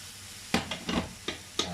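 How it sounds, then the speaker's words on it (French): Carrots with coriander stirred in a pan, a soft sizzle broken by four or five quick spoon scrapes and taps, close and fairly quiet. "j'ai rajouté un peu de coriandre sur les carottes, je mélange et c'est prêt."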